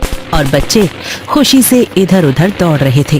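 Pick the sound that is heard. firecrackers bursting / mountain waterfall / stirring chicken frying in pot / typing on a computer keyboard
firecrackers bursting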